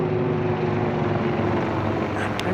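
A second helicopter flies overhead on a cold night outdoors, a steady, loud rotor drone that fills the whole clip without letting up.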